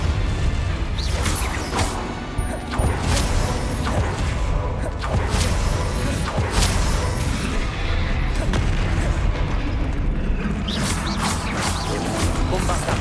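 Explosive spell impacts from Bombarda and Confringo in Hogwarts Legacy: repeated booms and crashes with whooshes, dense and continuous over game music and effects, with a voice shouting spell names throughout.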